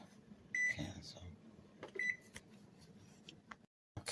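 A kitchen timer gives two short, faint electronic beeps, about a second and a half apart, while a pot of brown rice boils on a stovetop beneath a low background hum.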